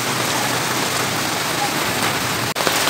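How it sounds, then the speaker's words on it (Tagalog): Steady heavy rain pours down on a mountain surrounded by rivers, a dense continuous hiss of drops with no break, loud and close. "Walay undang ang ulan, 3 days na."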